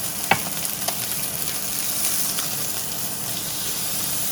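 Chicken sears in a hot wok with a steady, close sizzle and hiss, a few sharp pops of spitting fat standing out early.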